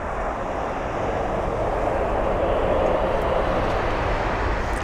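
Airliner arriving from Kefalonia at London Heathrow, a steady, moderately loud broadband roar that holds evenly throughout with no clear rise or fall, heard alone without talk.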